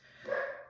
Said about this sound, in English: start barking when I'm trying to film